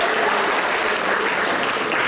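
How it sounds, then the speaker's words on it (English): An audience applauds a skit performance with steady, dense clapping that fills the whole moment without pause. "Can you give a round of applause for that?"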